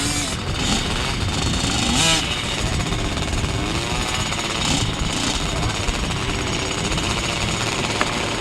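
Grasstrack motorcycles racing in an Auto Cadets race at a 2005 sideways grasstrack meeting: loud, continuous, buzzing engine roar from several bikes, sustained throughout with slight surges and no pauses.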